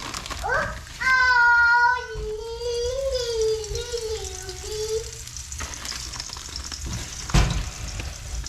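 Scup fish frying in a pan, oil sizzling and crackling steadily, while a high wavering whine like a cat's meow rises over it early on and a sharp clatter lands near the end.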